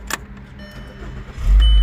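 A 2006 Volkswagen Jetta starts with a newly cut key: a brief click, then a quiet pause before the engine cranks and catches with a loud, steady low rumble close by.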